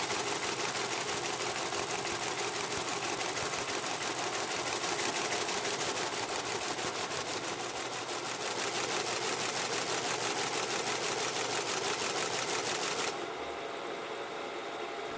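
A Teletype machine sending from punched tape clatters in a rapid, steady mechanical rhythm, close and continuous, then cuts to a quieter motor hum near the end.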